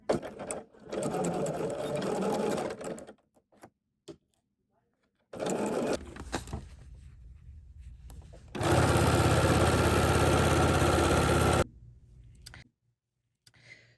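A BERNINA 990 sewing machine stitches a quarter-inch seam on a quilted watermelon mat, running in loud, steady whirring bursts separated by pauses, with someone talking between runs.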